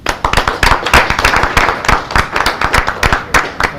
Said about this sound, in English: join me in a round of applause for our trustees